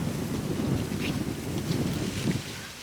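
Strong outdoor wind buffets the microphone in a continuous, loud, rough rumble that swells and eases slightly without a break.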